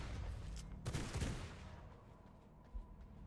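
A few quick pistol shots fired in the video game V Rising, clustered in a short burst close up, then fading into a low rumbling game ambience.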